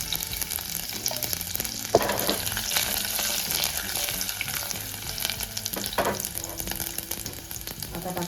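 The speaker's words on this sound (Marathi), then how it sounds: "1 चमचा तेल टाकूया. त्याच्यात टाकूया मोहरी, टाकूया लसूण" Mustard seeds and garlic frying in oil in a hot pan, a dense continuous crackling sizzle with occasional sharp pops and light clinks, close and moderately loud with no talk.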